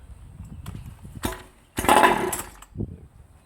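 A 47cc outboard boat engine is pull-started with a couple of short cord rattles, then it catches and roars loud and close for about a second before cutting out, followed by a brief sputter.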